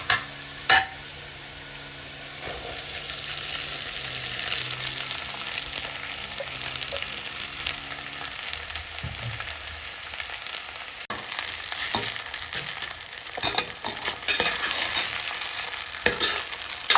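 Soaked sabudana being stirred with cooked potato in hot ghee in a pan, a steady soft sizzle with scraping spoon strokes and a few sharp knocks, close and alone.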